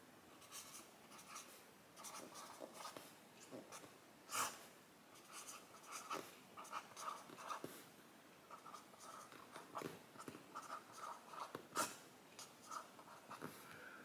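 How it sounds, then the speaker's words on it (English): Pen scratching on paper while a date calculation is written out, quiet close strokes in short irregular bursts with small taps, and no talk. "I'm going to go ahead and write this out here so you can watch it on the math."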